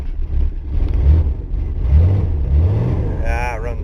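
An old truck engine runs steadily after a battery boost, a loud low rumble with slight revving surges, while a person speaks over it near the end.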